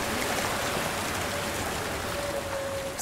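A stream in the game Hellblade: Senua's Sacrifice flows with a loud, steady broadband rush of water that fills the whole stretch without pause, close up and constant, with a faint tonal whine drifting through it.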